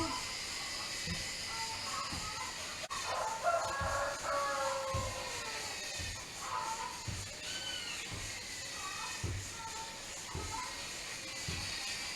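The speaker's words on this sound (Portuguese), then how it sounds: "Tem os galos, as galinhas cantando." Roosters crowing at a distance with chickens calling, over a steady outdoor hiss and regular soft thumps nearby.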